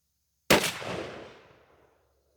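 A single Stevens 301 20 gauge shotgun blast firing Federal Power-Shok 3-inch buckshot, a sharp loud crack with a long fading echo rolling out over about a second and a half.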